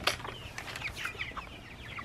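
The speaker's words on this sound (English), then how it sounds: "seeing chickens on fresh grass that makes my soul sing" Chickens on fresh grass cluck and chirp in short, scattered calls at moderate distance, with a soft steady outdoor background beneath them.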